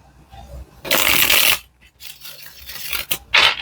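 Tarot cards being shuffled up close, a long riffling rasp followed by several shorter shuffling bursts and pauses, with no talking.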